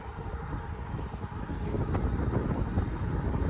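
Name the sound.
strong wind, about 30 miles an hour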